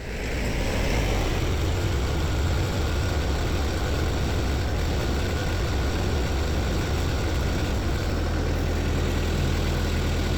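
A tractor engine idles in a steady, loud low rumble, running continuously and unchanging without any talk.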